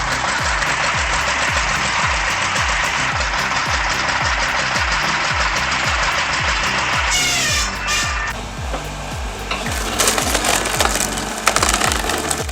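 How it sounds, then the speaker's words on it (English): A vintage 1962 circular saw runs with a steady, low, chugging engine rhythm and grinds and splinters through wood, with loud rough crackling that breaks through in the later stretch. "A circular saw built like a legend. It carves through wood with ease"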